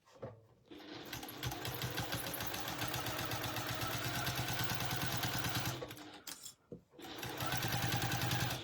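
A sewing machine stitches the mitred binding edge of a fabric wall hanging, a fast steady mechanical rattle running close and loud for several seconds, pausing briefly, then resuming at the same rapid pace.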